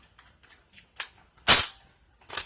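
A Dart Zone BlitzFire toy blaster dry fired with no darts loaded gives one loud, sharp snap, surrounded by softer handling clicks and a second burst of clatter at the end.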